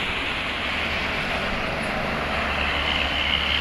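Prima Jasa bus passing on a highway, a steady loud roar of engine and tyres rushing by, continuous and close throughout the short stretch.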